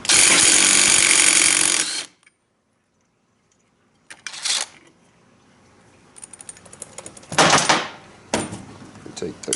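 An electric impact gun zips off the clutch nut on a KX250F engine during teardown. A loud, sustained buzzing hammer opens the clip and stops abruptly, followed by shorter tool bursts and clanks with talk in between.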